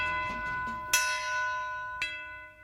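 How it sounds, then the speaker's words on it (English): Church bells ring within a song, two bright metallic strikes about a second apart, each ringing out over a steady sustained musical tone at moderate volume. "Church bells or no?"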